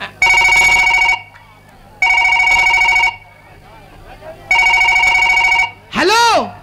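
A telephone ringtone plays in three loud, separate bursts of repeated electronic ringing, with short pauses between them, followed by a quick sweeping electronic chirp.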